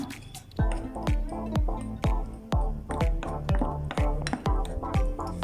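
A spoon stirs cake batter of maida flour in a bowl in quick, regular strokes about twice a second, each with a wet squish and a light clink against the bowl.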